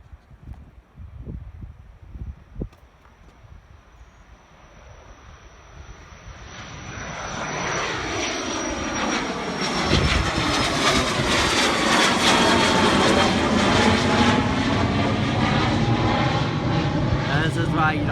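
At Naples Airport, an airplane on the runway spools up and takes off. A roar swells steadily from a quiet start to a loud, sustained jet sound with a rising whine. Faint movement noises are heard early on, before the engines build.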